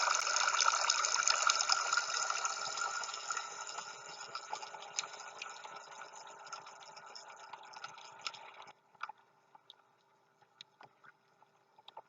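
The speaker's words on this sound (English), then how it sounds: "Here is an enchanted wishing well outdoor water fountain." Water runs and splashes steadily from an enchanted wishing well outdoor garden fountain, a bright continuous trickle that stops abruptly near the end, leaving only faint scattered drips.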